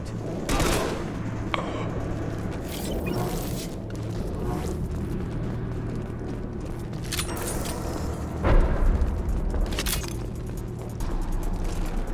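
Gunfire from the video game Mass Effect 2, bursts of shots and mechanical clatter over a steady game soundscape, with a heavier boom near the end and voices speaking intermittently.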